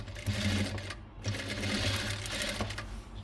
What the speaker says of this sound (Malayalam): സ്റ്റിച്ച് ചെയ്ത് പോന്നാൽ മതി.